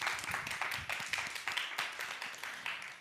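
A round of applause at an online animal politics conference, thin scattered clapping with a few sharper bursts, fairly faint and steady throughout without talk.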